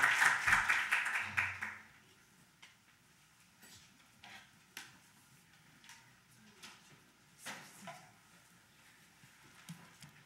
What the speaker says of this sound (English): let's give a round of applause to Professor Wang